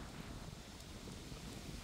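Steady wind buffets the microphone outdoors at a horse riding session, giving a dense, continuous low rumble with no talk over it.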